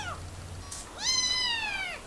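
A cat meows nearby: a faint short chirp first, then one clear, drawn-out meow that bends in pitch over a quiet background hum.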